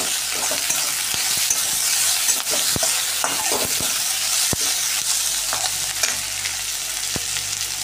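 Coriander, garlic, ginger and onion sizzling in hot oil while being stirred in a pan for restaurant-style paneer 65: a steady close frying hiss broken by scattered clicks of the spoon against the pan.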